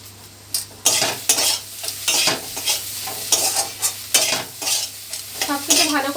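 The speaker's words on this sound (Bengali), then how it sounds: "সবকিছু ভালো করে আমি মিশিয়ে নিচ্ছি" Spices with ground coriander, cumin and chili powder are stirred and fried in a pan, giving a steady sizzle broken by repeated scraping strokes of a spoon, close and fairly loud, with no talking.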